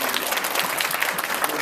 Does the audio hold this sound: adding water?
no